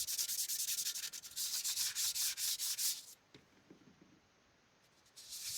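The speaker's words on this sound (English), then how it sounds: "here now I'm pulling out the sandpaper." Quick back-and-forth sandpaper strokes scrub a rusty halberd blade, a bright rasping rhythm of about a dozen close strokes, then a pause with faint handling scrapes before the sanding starts again.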